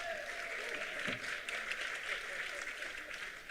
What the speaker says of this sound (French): Au contraire, on applaudira chaleureusement.